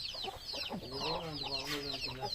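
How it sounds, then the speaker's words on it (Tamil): Chickens clucking on a farm near a banana plantation, a few close clucks and short calls in quick succession over a brief moment, with voices murmuring underneath. "இங்கே தான் சரி 2 கோழி பிடிச்சிக்கலாம்."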